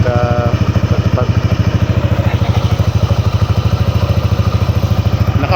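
A Yamaha Nmax scooter with an aftermarket GBT power pipe exhaust and RS8 pulley runs close by, its engine throbbing in a loud, fast, even pulse with a rattly edge throughout.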